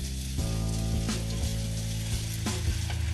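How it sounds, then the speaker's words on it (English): Tomatoes frying in a pan for a North Karnataka girmit snack give a loud, steady sizzle, with a few brief surges as tamarind juice goes in and everything is stirred. "In this, now we will add the tamarind juice"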